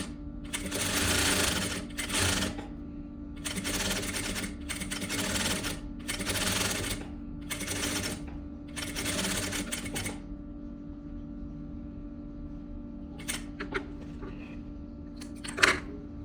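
A sewing machine runs in close bursts while stitching a seam on velour fabric for a boy's vest, with six or seven mechanical whirring runs separated by short pauses, then quieter handling clicks and a sharp tap at the end.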